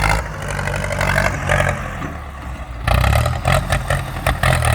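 Ford 6610 tractor engine working near a pile of dirt, a loud, rough, clattering diesel drone that eases off briefly, then revs back up with pulsing surges, close by.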